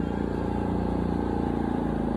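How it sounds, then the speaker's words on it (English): A motor vehicle engine hums steadily near a park, a continuous low drone holding at moderate level throughout with no voices over it. "You might hear some motors motoring"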